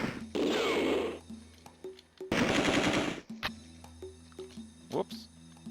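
Bursts of gunfire in Alone in the Dark 2 come as two loud sustained rattles followed by scattered sharper single shots, with a voice talking at points between them.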